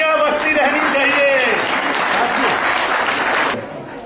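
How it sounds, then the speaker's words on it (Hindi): An audience at a prize-distribution award ceremony for an all-India drama and dance competition applauds loudly and continuously, a dense wash of clapping that fades slightly at the end. "तालियां बजती रहनी चाहिए।"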